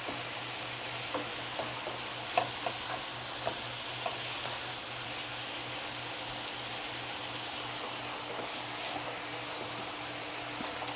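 Garlic and golden-browned vegetables sizzling in a pan for a sweet potato and turkey shepherd's pie, a soft steady frying hiss with scattered light taps from stirring, no talking.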